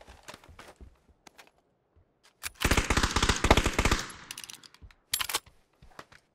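Rapid automatic gunfire bursts loudly for about a second and a half in a PUBG match, with scattered single shots and footsteps before and a short second burst after.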